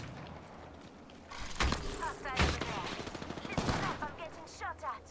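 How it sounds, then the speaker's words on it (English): Video game gunfire rings out in several bursts and single shots, some close and loud, others more distant, with rapid fire crackling over a few seconds under a faint game background. "I'm getting shot at."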